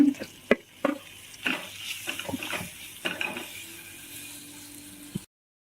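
Mashed potato sizzles and fries in a pan with chili while a utensil stirs and scrapes, with a few sharp clinks, continuous and close.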